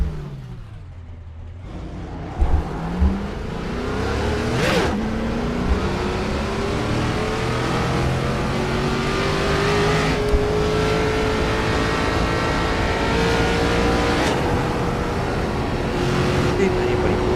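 ARCA race car engine in iRacing on a qualifying lap at Charlotte, a loud sustained roar with rising pitch as it accelerates through the gears, steady and close throughout.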